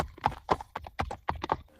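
A horse carries a prince along the road toward a kingdom, its hooves striking a clear, even clip-clop of about seven beats, close and unaccompanied.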